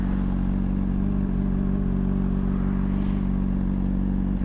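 Steady motorcycle engine drone while riding through a neighborhood, a continuous low rumble with a faint rise in revs near the end, heard alone without talk.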